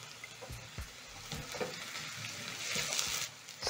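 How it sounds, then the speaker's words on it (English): Onions, garlic and ginger sautéing in a pan, a low steady sizzle broken by occasional stirring clacks, building slightly louder toward the end. "saute the onions, garlic and ginger until a little bit golden brown"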